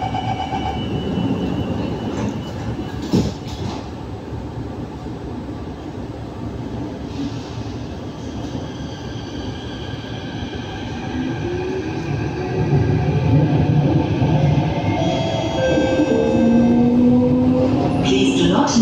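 A Singapore MRT train rumbles along with steady wheel noise, growing louder later as a high squeal and whine rise; an onboard announcement speaks briefly over it.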